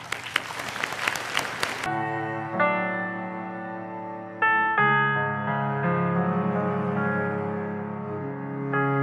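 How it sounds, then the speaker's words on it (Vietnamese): A studio audience at a televised singing competition claps in a dense, loud burst of applause for about two seconds before it cuts off and sustained instrumental music takes over. "Một tràng pháo tay, cảm ơn."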